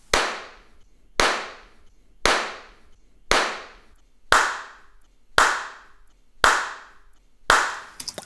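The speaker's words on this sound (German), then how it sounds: "Und ich spiele jetzt einfach mal den Klatscher ab, ein paar Mal mit Screen und ein paar Mal ohne Screen." Eight sharp handclaps in a conservatory, recorded some with a reflection screen and some without, each clap alone and evenly spaced with a clear reverberant tail fading before the next.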